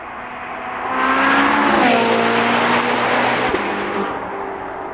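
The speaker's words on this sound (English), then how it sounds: "So here's the Ferrari, flat out in third gear." A Ferrari 458 Spider tears past flat out in third gear, its engine building to a loud, high-pitched wail as it nears, peaking, then the pitch dropping as it passes and recedes into the distance.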